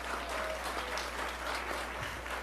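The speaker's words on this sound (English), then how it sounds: "Can we please get a round of applause for Betsy on cello?" A church congregation at a Taizé service gives a cellist steady, even applause, a continuous wash of clapping from many hands under a low hum.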